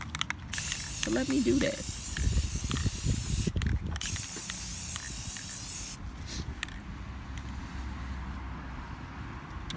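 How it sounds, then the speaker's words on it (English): Spray paint hissing from an aerosol can onto the slats of a metal vent cover in repeated close bursts, with a person talking over parts of it. "So in order to get all the slats, the spray paint on the slats, you have to do it on both sides."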